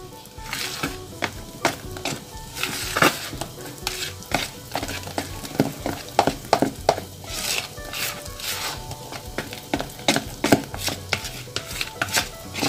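Steamed sponge cake batter mixed with vegetable oil is stirred in a bowl, a close, repeated run of scraping, tapping strokes with an uneven rhythm and no talking.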